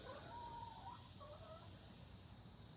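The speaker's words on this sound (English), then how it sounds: "These chickens are all over the place." Faint clucking from chickens rises and falls over a steady background hiss, quiet and somewhat distant.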